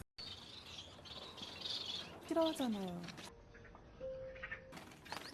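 Faint bird chirps and calls in a quiet outdoor setting, a few short tweets and a thin sustained whistle against soft background noise.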